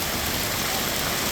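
Heavy downpour pounds a road in Thrissur where tarring work is underway, giving a brief burst of dense, even hiss of rain on the surface with no clear voices.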